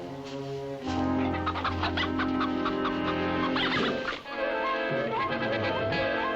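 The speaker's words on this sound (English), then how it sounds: "some belligerent chickens, agile as blue jays and loud as crows" Chickens cluck and squawk nonstop, a loud, busy flock close by with overlapping calls and no pauses.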